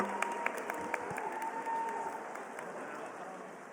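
Sustained applause from the audience at the 2024 Australian Game Developer Awards, a steady moderate wash of clapping with a few sharper nearby claps, fading slightly toward the end under faint voices.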